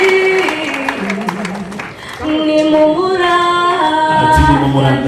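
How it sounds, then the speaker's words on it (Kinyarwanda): Crowd at a joyous gospel concert welcoming a performer with applause and ululation, high trilling voices rising over clapping, loud and sustained, swelling further toward the end. "Ati twese tumwakirize amashyi menshi n'impundu"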